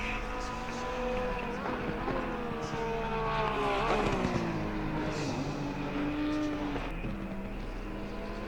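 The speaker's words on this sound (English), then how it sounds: "He was in a four-wheel drift going around that corner." Race cars in a racing video game at Suzuka, one car in a four-wheel drift through a corner; steady layered engine whine with shifting pitch sweeps under continuous race commentary.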